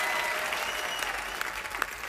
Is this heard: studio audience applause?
yes